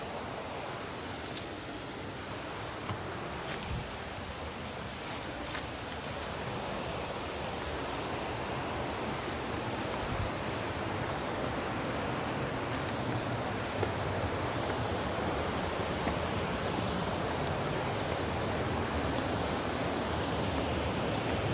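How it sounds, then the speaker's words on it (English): The Linville River rushing through Linville Gorge in North Carolina, a broad steady roar of flowing water heard close and continuous, with a few faint clicks and knocks over the constant wash. "we took a trail off the trail down to the river"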